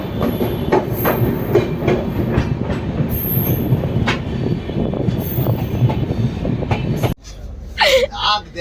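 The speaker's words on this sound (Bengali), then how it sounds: "এই হচ্ছে আমাদের ট্রেন, কলকাতা জম্মু তাওয়ি এক্সপ্রেস" The Kolkata Jammu Tawi Express rolling along with a loud, steady rumble and rhythmic clickety-clack of wheels, a voice talking over it, before the sound drops away near the end.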